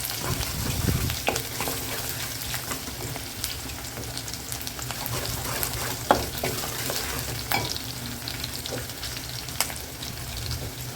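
Onions frying in oil for a fish kulambu, a dense continuous sizzle with occasional spoon scrapes and taps against the pan, close and steady throughout with no talking.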